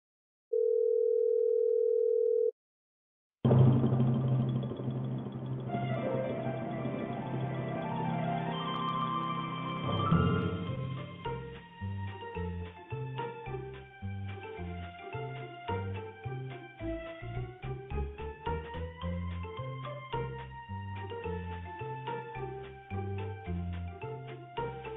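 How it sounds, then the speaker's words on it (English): Music from the Fallout game's Tranquility Lane theme plays through a narrow, tinny phone line after a short steady tone, continuous and moderately loud with no voices. "That's the Tranquility Lane theme"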